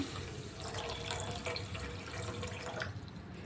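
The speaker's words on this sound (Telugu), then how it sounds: "అలాగే ఇందులో ఒక అర గ్లాస్ వరకు వాటర్ పోసుకుంటున్నాను" Water poured into a pan holding a cup of sugar on the stove, a steady splashing pour that runs close and continuous for a few seconds with no talking.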